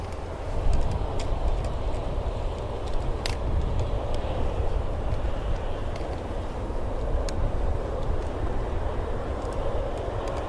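A Lufthansa airliner at Manchester Airport sends out a steady, broad roar that stays loud and unbroken the whole time, with a few faint clicks and knocks from nearby.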